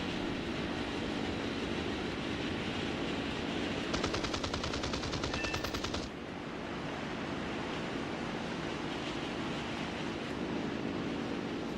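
Cannons on a Mosquito Mk VI fighter-bomber firing in War Thunder, a rapid rattling burst of about two seconds over a constant loud engine drone, with the drone continuing alone afterward.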